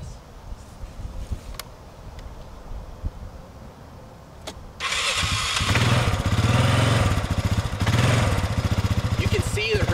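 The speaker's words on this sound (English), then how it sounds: "Start the four-wheeler up, let her hear the noises" Four-wheeler ATV engine cranking and catching outdoors during a dog's training session, quieter handling noises first, then the engine bursts into a loud steady idle with rising and falling revs, close by.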